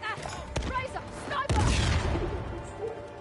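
Sniper and rifle fire in Uncharted: The Lost Legacy, a heavy shot followed by a rumbling boom that dies away, mixed with game effects and someone speaking briefly at the start.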